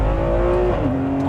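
Ferrari 599 V12 engine pulling hard under acceleration, a loud, steady close-up roar whose pitch climbs, drops briefly at a shift, and climbs again.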